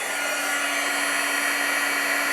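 A heat tool blows steadily and loudly to set glitter embossing powder on a handmade card, a constant whooshing hiss with a fixed tonal whine running unbroken throughout, no voices over it.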